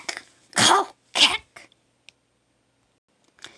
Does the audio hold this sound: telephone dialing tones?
no